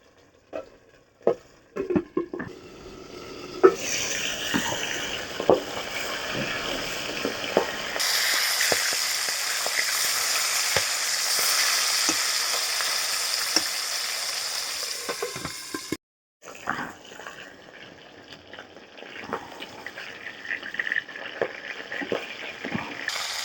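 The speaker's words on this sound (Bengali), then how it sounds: "মাছটা আমি ঢাকা দিয়ে ভাজবো, নাহলে তেল ছিটবে।" Fish frying in hot oil under a lid makes a continuous sizzle that swells louder midway, broken by repeated sharp clicks and clatters of the lid and utensils, then briefly cut off before resuming.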